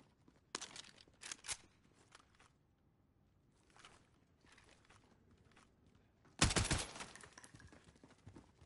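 Video game assault rifle fire crackles out in a few short bursts, then a louder, sustained volley near the end, with quiet gaps between.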